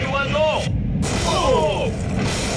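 TNT explodes to blast open a safe, giving a heavy, rumbling roar that fills the whole stretch with low booming energy while excited voices cry out over it.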